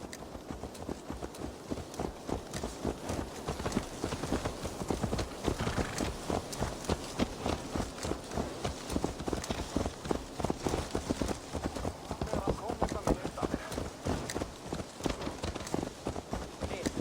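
Horse hooves clip-clop steadily in a rapid, continuous rhythm in Assassin's Creed Valhalla, with game sounds and faint speech underneath.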